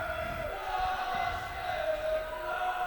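Spectators at a varsity futsal match cheer and chant together, a sustained, moderately distant crowd roar with rising and falling swells and no single voice standing out.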